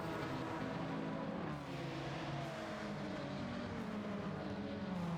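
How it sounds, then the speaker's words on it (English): Race cars circle Bathurst in Gran Turismo 7, a dense wash of engines droning and shifting pitch as a close pack of touring cars, including a FedEx Mazda and a Mitsubishi, runs nose to tail. "we've got Butcher trying to find a way past Nakajima's FedEx Mazda"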